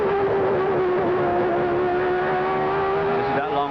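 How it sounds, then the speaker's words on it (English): Onboard Formula One race car at the 1989 Spanish Grand Prix, the engine holding a loud, steady high-pitched whine close to the microphone, shifting slightly near the end. "Perhaps we can go on board with him and listen to the sound of his engine"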